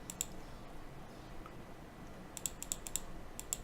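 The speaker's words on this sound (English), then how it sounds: "You'll hear me clicking, sorry about that." Computer mouse clicking during a Farming Simulator 2017 session, a few quick clicks early, then a rapid cluster of sharp clicks near the end, faint against quiet background.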